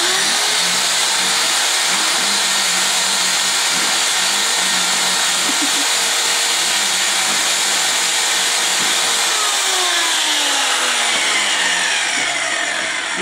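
A drill boring a hole, a loud steady high-pitched whine that holds for over twelve seconds with slight shifts in pitch and no voices over it.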